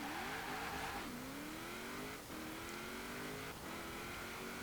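Engine of a 1969 Toyota 2000GT driven in Forza Horizon 4, revving up through the gears with rising pitch sweeps and brief dips at each shift, steady and close with no talk.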